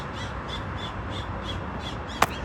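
Crows cawing in a steady series of about seven calls at an even pace, moderately distant, with a sharp click near the end and no talk.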